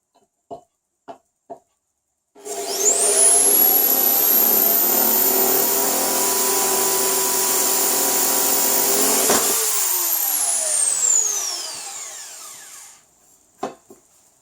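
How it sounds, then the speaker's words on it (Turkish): A power drill with a cobalt-alloy bit bores into forged steel, a loud sustained whining drone running about ten seconds with a rising high pitch, then spinning down, bracketed by a few sharp clicks before and after. "Dediğim gibi kobaltlı uç deneyeceğim."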